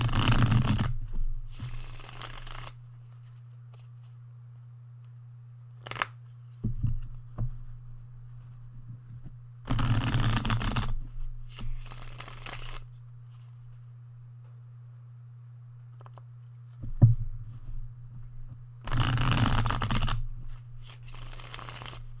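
Tarot cards being shuffled in three separate bouts of crisp riffling and slapping, each a few seconds long, close and fairly loud, with a steady low hum and near silence between them.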